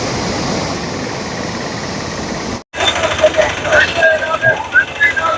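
The Bhadra river flowing past the hill-ringed Subrahmanya temple at Kalasa gives a steady broadband rush. It breaks off briefly, then returns with faint thin tonal chirps and voices over the water noise.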